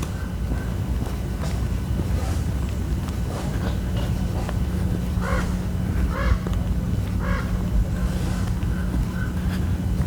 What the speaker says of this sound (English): You can hear the crows in the distance.